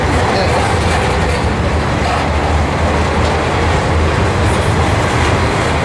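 A freight train at Cajon Pass rumbles past loud and near, a continuous heavy roar with rail clatter filling the whole stretch.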